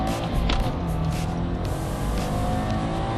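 A 2011 Subaru Impreza WRX with a downpipe and tune accelerating hard in a 0-60 run, the engine roaring loudly and steadily from inside the car.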